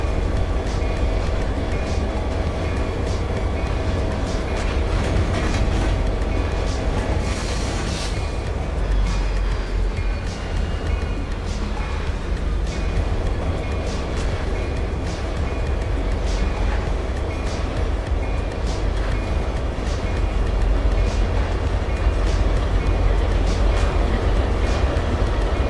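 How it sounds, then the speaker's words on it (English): A Norfolk Southern train runs in the Trainz simulator game, a loud, steady rolling rumble with rhythmic clicking of wheels over rail joints lasting throughout. "And here we go with our train for today."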